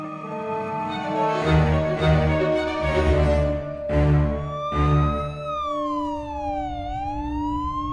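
Emergency vehicle siren in the video game Conspiracies 2, wailing loud and close, with its pitch rising and sweeping down over a steady tone and low rumble.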